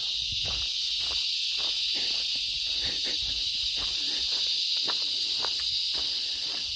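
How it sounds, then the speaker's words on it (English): Cicadas drone loudly in a Florida nature reserve, a dense unbroken high-pitched buzz filling the background throughout, with faint scattered rustles and ticks nearer by. "Man, the cicadas are loud."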